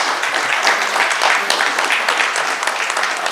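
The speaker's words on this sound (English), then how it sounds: "Can we all give a good clap for all the speakers?" An audience at a panel discussion applauds the speakers after a post-lunch session, giving a loud, continuous patter of many hands that holds steady with no one speaking.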